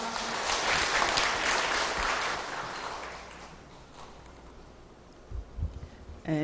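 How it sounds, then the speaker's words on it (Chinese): A church congregation at a Sunday service claps in welcome, a dense burst of applause that fades over a few seconds into scattered claps and room noise, followed by faint knocks. "我们来拍手欢迎他。"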